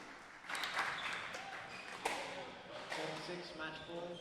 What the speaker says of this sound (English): The crowd showing their appreciation for both players